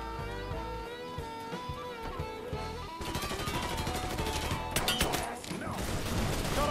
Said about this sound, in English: Wow, that was a really quick shot.